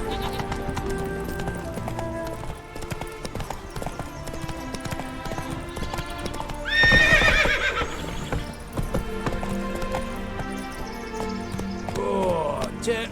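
A horse in The Witcher 3 galloping with rapid rhythmic hoof clip-clops, broken by a loud, shrill neigh midway, with music and game ambience running underneath.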